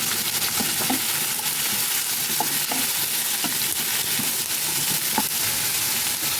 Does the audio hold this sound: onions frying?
yes